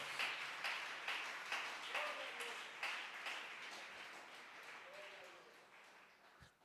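Church congregation clapping in steady rhythmic applause, faint and distant, carrying on for several seconds with a voice murmuring faintly beneath it.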